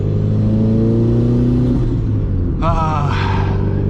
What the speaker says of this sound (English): The noise that are coming from this car right now.